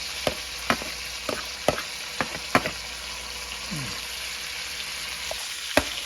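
Garlic sautéing in a pan for ginisang monggo, a continuous sizzle of frying with sharp scraping stirs and clinks of a utensil spaced through it, close and fairly loud.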